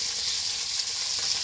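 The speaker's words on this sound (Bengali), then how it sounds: "এই যে আমি কটা পুঁটি মাছ ভেজে নিয়েছি একদম কড়া কড়া করে" Puti fish fry crisp in hot oil in a pan, a steady dense sizzle filling the short stretch, close and fairly loud with no talk.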